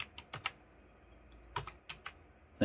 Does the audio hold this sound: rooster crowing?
no